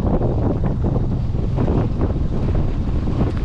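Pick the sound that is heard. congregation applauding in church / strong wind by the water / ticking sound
strong wind by the water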